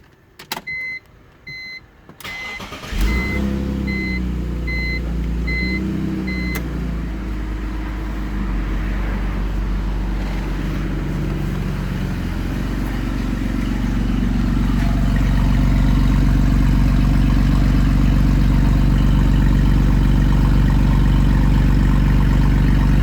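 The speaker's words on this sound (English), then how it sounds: "let's fire it up with the muffler delete and turn down." BMW E46 with a muffler delete cranks and fires, then idles in a steady low drone that grows louder and deeper over the following seconds, heard up close without talk.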